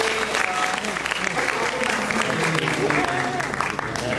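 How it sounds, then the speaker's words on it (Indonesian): Students at a university entrepreneurship workshop applaud in a steady, crowded burst of clapping, with some voices and background hubbub mixed in. "tepuk tangan dulu dong buat UI"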